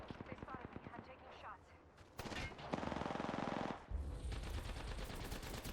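Rapid automatic gunfire in the video game Apex Legends, bursts of fast repeated shots with a sustained heavy barrage in the middle, loud and close, with faint voice in the background.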